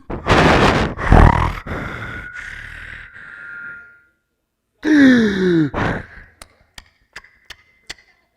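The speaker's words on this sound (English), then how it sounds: "That's what my baby does all night" A baby at night making loud breathy grunts and sighs close by, a long strained grunt first, then a gap, then a whiny sigh followed by a string of short sharp sniffs or snorts.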